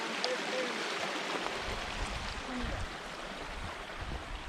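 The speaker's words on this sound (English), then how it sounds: "We got to ford the stream." Broadband rushing water from stream rapids at Vogel State Park, steady and fairly close, a continuous wash with no voices.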